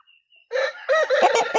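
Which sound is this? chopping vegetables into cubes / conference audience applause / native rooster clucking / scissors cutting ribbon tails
native rooster clucking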